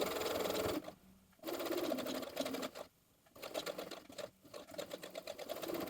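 A sewing machine top stitches a neckband just over a quarter inch from the edge, running in three long, steady bursts separated by short pauses, loud and close.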